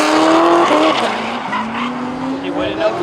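A drifting car squeals its tires in long, loud wavering tones with engine roar beneath, sliding continuously for a few seconds while people talk over it.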